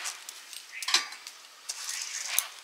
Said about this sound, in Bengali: ঘি দিয়ে এবার মাখিয়ে নিচ্ছি চালগুলো।